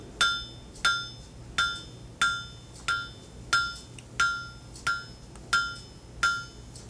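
A Nazel 3B power hammer strikes hot steel while forging a key fob, ten loud ringing blows in a steady rhythm, each with a metallic clang and a short decay.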